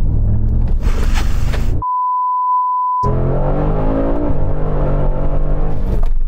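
Brabus-modified Mercedes G-Class pickup accelerating hard in a 0-60 run, loud rising engine roar broken by a steady censor-style beep in the middle, then climbing revs through gear changes resuming close by.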